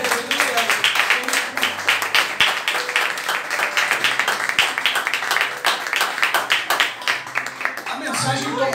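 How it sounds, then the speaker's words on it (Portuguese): A church congregation applauds during a sermon, with dense, steady clapping running nearly nine seconds and voices mixed in throughout. "Quem pode aplaudir Jesus?"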